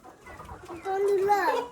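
A desi village hen clucks close by in a short, rising burst of calls, with faint background noise.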